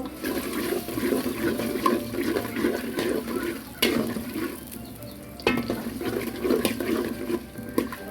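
Chopped onion stirred and frying in a pan with whole garam spices, pepper, cardamom and cloves for chicken kosha, giving a steady sizzle with scraping stirs and a few sharper clanks, close and fairly loud, with no voices.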